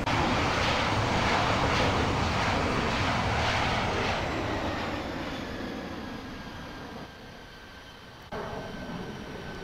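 Aircraft engine at full throttle in the Infinite Flight game, a loud continuous roar with rushing noise that slowly fades and thins, then a brief jump in level near the end.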